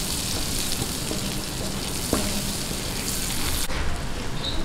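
Three tablespoons of butter melt in a pan, sizzling and crackling steadily, with a soft tap partway through.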